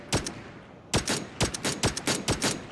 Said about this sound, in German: Man weiß halt nicht genau, wenn man aus der Hüfte schießt, wo die Schüsse überhaupt hingehen.